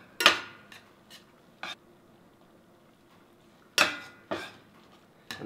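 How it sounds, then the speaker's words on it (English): Flour being stirred into browned sausage in a pan on a wood stove: a few sharp scraping clanks of a utensil against the pan, spaced apart with quiet gaps between them. "And just keep mixing it in a little at a time, stirring it."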